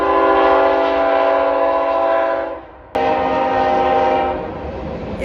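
A loud train horn blares in long sustained blasts, with the rumble of the passing train continuing underneath; brief pause between two horn soundings.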